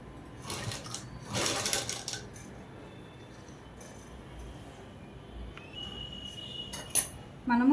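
A sewing machine stitching cloth for a collar-neck dress whirs in short rattling bursts, loudest early on, then runs on as a quieter steady hum with a few small clinks near the end.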